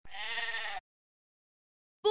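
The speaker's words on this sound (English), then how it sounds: "Sheep" A sheep bleats one long, wavering farmyard call up close, followed by silence and the start of a second bleat.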